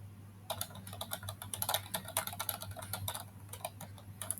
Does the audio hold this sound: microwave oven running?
no